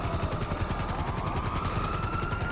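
A helicopter in Grand Theft Auto Online runs steadily, its rotor beating in a quick, even pulse under a whining turbine tone at moderate level.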